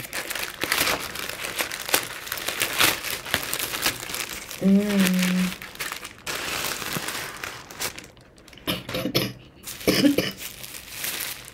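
A plastic parcel package is torn open and crinkled, with rustling and crackling bursts throughout, broken by a cough and a little talk.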